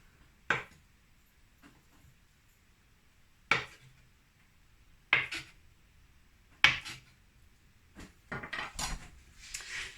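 A knife cuts through a block of homemade vegan feta, giving four or five sharp, separate taps against a board at steady intervals, close and quiet, followed by a cluster of softer scraping handling sounds.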